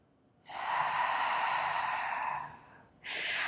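A long, deep breath during a Pilates workout, a steady airy inhale or exhale of about two seconds close to the microphone, followed by the start of another breath.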